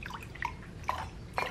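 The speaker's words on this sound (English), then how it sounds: "So now we need to add enough liquid, so water" Small splashes and drips of water going into about a quarter cup of juice in a kitchen, a few light, faint liquid plinks spaced over a second or so, with no talking.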